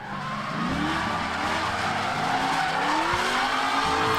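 V8-powered Nissan S13 and 350Z race cars drift at a 2024 Lone Star Drift round, engines wailing continuously with tires squealing and skidding, loud and close throughout.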